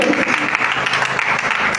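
A congregation at a Sunday church service applauds, a steady, dense wash of clapping from many hands that fills the room and keeps going without a break.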